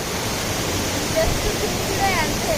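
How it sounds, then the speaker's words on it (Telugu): Kothapalli waterfalls heard from a distance, a steady broadband rush of falling water filling the scene evenly throughout. "మేము వచ్చేసాం కొత్తపల్లి వాటర్ ఫాల్స్."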